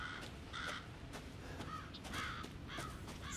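Crows cawing in the Resident Evil 7 video game, several harsh repeated caws overlapping at moderate distance above a constant hissing ambient backdrop, with no talk.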